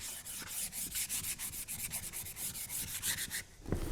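Wood being sanded by hand with sandpaper while making a footrest: rhythmic back-and-forth rubbing strokes, close and steady, about a dozen passes.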